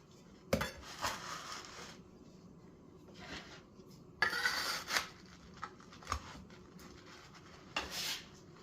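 Half of a Chicago-style stuffed pizza is pushed back into its metal pan, with scattered scraping, rubbing and soft clanks of utensil on pan, close and fairly quiet.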